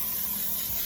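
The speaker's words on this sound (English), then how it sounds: "We're gonna spray it down with Pam" Pam cooking spray hissing steadily onto a baking pan, a continuous close, loud aerosol spray that cuts off sharply at the end.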